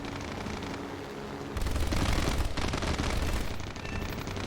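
Aircraft machine gun fire from a P-40E in War Thunder bursts out as a loud, rapid rattle that starts suddenly and keeps going over a steady engine drone.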